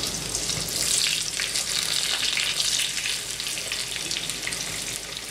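Loud, continuous sizzling of patties frying in hot oil in a pan, crackling steadily throughout without any talking.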